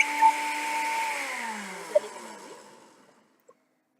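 A blender whirs while blending oats and milk, a loud high motor whine that winds down and fades out to silence over a few seconds, with a couple of small clicks at the end.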